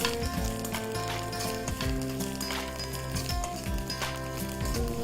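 Cumin, mustard, onion, anise and fenugreek seeds splutter in hot oil with green chilies and curry leaves, a steady close crackling sizzle with dense rapid pops running throughout.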